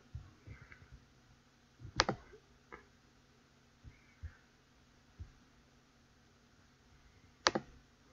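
Sharp computer mouse clicks on a subtitle site's download page: a few soft taps, then two crisp, close clicks spaced several seconds apart against a quiet room.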